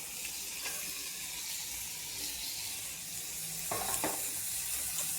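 Cabbage tipped into a hot pan with peas, turmeric and chilli thecha hisses in a loud, continuous sizzle, broken by a few scraping strokes as the vegetables are stirred; no one speaks.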